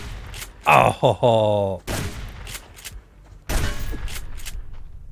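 Gunfire in the survival game Subsistence: a quick burst of several shots followed by a couple of later single blasts, loud and close, with a brief groan from a voice.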